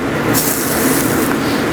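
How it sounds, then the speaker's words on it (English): Cooking oil is sprayed in a steady hiss over a pan and a Cuban sandwich, loud and close, in a restaurant kitchen. "We're going to give our pan a nice spray, and then a little spray on top of our Cuban"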